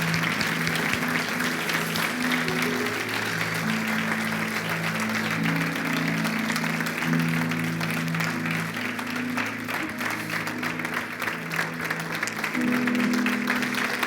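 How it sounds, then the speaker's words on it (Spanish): A church congregation applauding together, sustained dense clapping from a crowd lasting throughout, with faint voices and music underneath. "Vamos a darles un aplauso a la obra del Señor."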